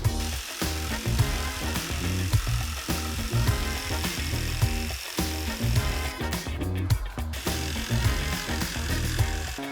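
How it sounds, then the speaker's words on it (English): A jigsaw cutting a shape out of a clamped wood panel from a side table, a loud continuous buzzing saw stroke with rhythmic chatter, steady throughout with a brief change near the end, no voices. "I'm just gonna cut that shape out using this jigsaw."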